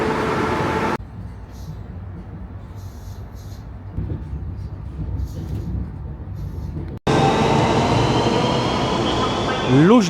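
A Moscow metro train at Luzhniki station, a loud steady rumble and hum of the moving carriage with an abrupt shift into quieter cabin noise and back, and a rising whine near the end, with a voice talking at times.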